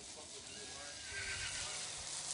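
A horse at a horse fair whinnies through a steady wash of outdoor crowd background noise, with the call faint to moderate rather than close.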